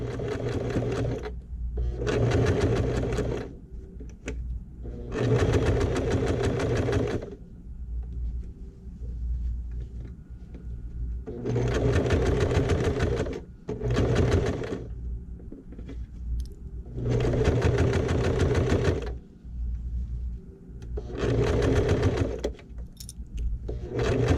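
A sewing machine stitches fabric for a small shoulder bag, running along the edge of the piping in several long bursts of steady, rapid needle chatter separated by short pauses while the fabric is repositioned.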